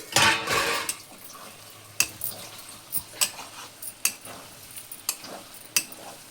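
A lid is set on a pan of brinjal prawn curry, one clattering metal knock followed by a series of light, evenly spaced ticks and taps in a quiet kitchen.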